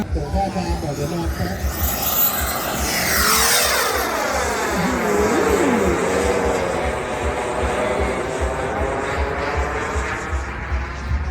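An F-16 jet takes off at an air show, its engine roar swelling and sweeping past with a strong pitch shift, heard over crowd noise and someone talking on a loudspeaker.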